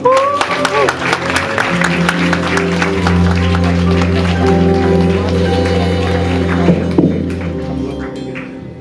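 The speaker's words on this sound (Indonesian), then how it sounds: "Tepuk tangan buat Tuhan." Church congregation at a Sunday Christmas service claps together, a bright rapid patter of many hands over sustained music and a speaking voice, fading toward the end.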